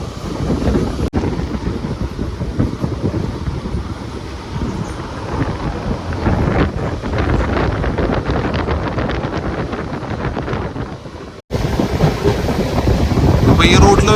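A diesel train on the Shoranur–Nilambur rail route runs continuously with rhythmic clatter and rumble, heavy wind buffeting the microphone throughout and a brief cut near the end before the noise resumes.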